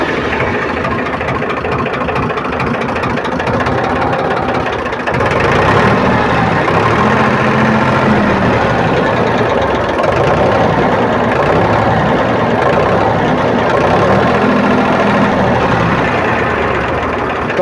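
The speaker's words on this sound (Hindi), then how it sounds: "तो अभी हम ट्रैक्टर को स्टार्ट करेंगे और स्टार्ट करके इसका साउंड सुनाएंगे" A Powertrac tractor diesel engine idles at about 500 rpm after its fuel pump drop timing is set, a loud, steady, close-up rumble with a slight knock that runs unbroken throughout.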